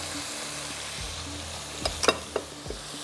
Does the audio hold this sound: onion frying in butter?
yes